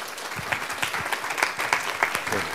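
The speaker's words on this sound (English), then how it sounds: "round of applause" A conference audience applauds to welcome speaker Dr Bob Mozayeni, a steady, dense wash of many hands clapping that carries evenly through the whole stretch without voices.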